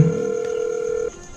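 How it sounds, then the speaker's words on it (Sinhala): A phone call to the number 630 rings out as a steady electronic ringback tone, fairly loud and close, holding for about a second before cutting off into low background hiss. "ඒක රින්ග්ස් යනවා."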